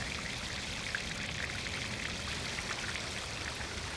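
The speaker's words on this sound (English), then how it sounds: "when the water is falling down, the sound is being enhanced by it falling down those fish scales" Water pours down a carved marble fish-scale chador cascade in a Mughal garden fountain, a steady, soft, even splashing rush with no speech.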